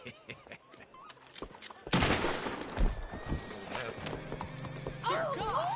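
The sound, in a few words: horse neighing in video game Red Dead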